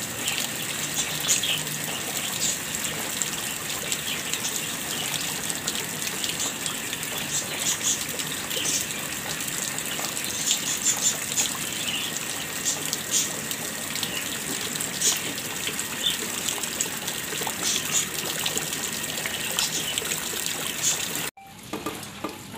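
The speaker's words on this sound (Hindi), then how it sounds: "ये देखने बारिश कितनी तेज हो गई है।" Steady, dense rain pours down without pause, a continuous loud hiss and patter of water that runs on for a long stretch before cutting off abruptly.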